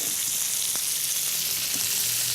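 A duck carcass browns in a pan, giving a steady, close sizzle of frying fat with a few faint clicks and stirring touches and no talking.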